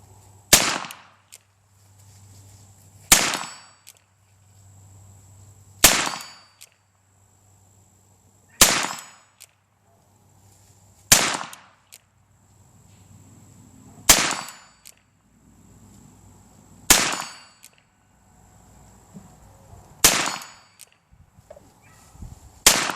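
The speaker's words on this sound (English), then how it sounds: "This gun shoots a little to the left, so I'm having to figure out how to hold to the right." A Cabela's Italian-made single action army replica revolver in .22 fires nine sharp shots, spaced evenly about every two to three seconds, each crack loud and close, with no talking.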